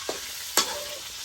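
Climbing perch frying in hot oil, a brief bright sizzle with two quick bursts as the fish hits the oil or is turned, close, no voices.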